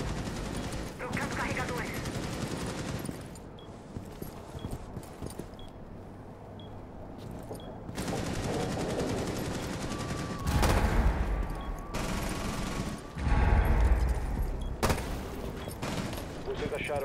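Rainbow Six Siege gunfire with bursts of automatic fire and sharp single shots from the video game, loud and clustered in several blasts over about seventeen seconds, with brief quieter gaps between them.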